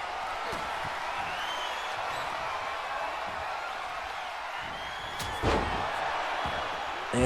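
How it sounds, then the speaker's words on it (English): A wrestler slams down inside a WWE 2K24 Royal Rumble match, a sharp thud rising over a steady roaring arena crowd, with a second impact near the end. "And Beast Boy just got slammed."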